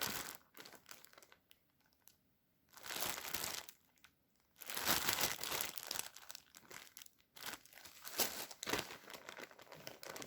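Plastic freezer bag holding kale crinkles and crackles as air is squeezed out by hand, close-up in irregular bursts of rustling with quiet pauses between squeezes.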